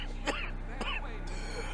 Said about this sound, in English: Are we coughing up blood?